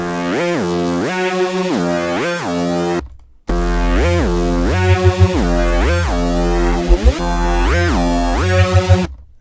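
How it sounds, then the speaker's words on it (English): A deep synth sine-wave bass pitched an octave down plays repeated notes that swoop up and down in pitch, loud and buzzy, with a brief silent break partway through. "So this is just a sine wave, right? And it's an octave down, pitch minus 12."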